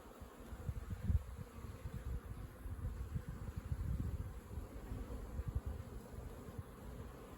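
Honeybees flying in and out of an apiary hive on a spring day, a steady low buzzing hum that swells and fades as bees pass close by, with no voices.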